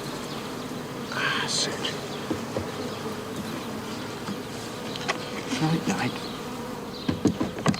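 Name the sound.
bees buzzing around hive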